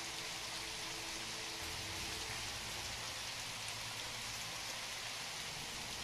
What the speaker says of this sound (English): I love the fact that it's raining and everything, man.